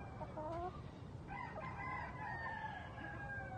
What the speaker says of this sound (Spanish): Todas estas gallinas son Little River Kelso